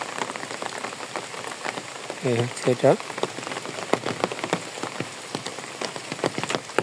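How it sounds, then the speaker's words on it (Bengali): Rain falls steadily on a quiet village road outside a house, a soft continuous patter with close drips, while a short voice speaks briefly and a bird chirps twice. "বৃষ্টি হইতেছে"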